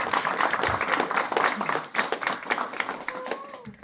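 Audience at a veterans' gathering claps in a lively round of applause, many hands close and steady, fading near the end as a voice comes in.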